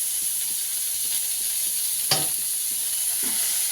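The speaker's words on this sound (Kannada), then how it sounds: "ಮತ್ತೊಂದು ಟೊಮೆಟೊ, 2 ಟೊಮೆಟೊ ಹಾಕಿ ಹುರ್ಕೊಬೇಕು ನೋಡಿ." Chopped tomatoes and garlic frying in a pan, a constant close sizzle with light stirring taps and one sharper scrape partway through, no voices.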